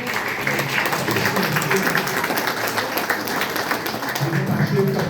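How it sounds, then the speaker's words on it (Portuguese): An audience at a regional seminar for people affected by dams breaks into sustained applause, a loud, steady patter of many hands clapping together, with voices mixed faintly underneath. "Bem, gente, salve de palmas"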